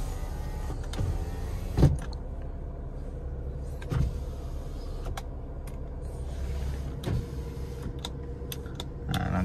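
Power windows on a 2008 Honda City facelift move in a motorized whir inside the car, with faint clicks and clunks as each window starts and stops, repeated several times and without talk.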